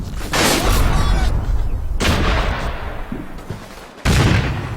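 Gunfire in the WWII strategy game Combat Mission: Battle for Normandy, a sustained loud barrage of shots and booms from about 0.3 to 4 seconds with a brief lull, then another burst near the end.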